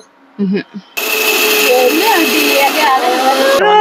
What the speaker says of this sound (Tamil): இது கூட சீரகம் போட்டு அரைச்சுக்கிறேன்